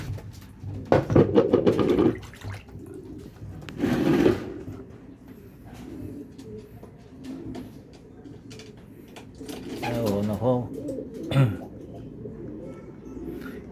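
Racing pigeons in a loft coo softly during a race, with low cooing calls scattered across the scene and people talking nearby in between.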